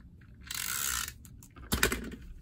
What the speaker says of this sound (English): So let me grab my snips. Snip.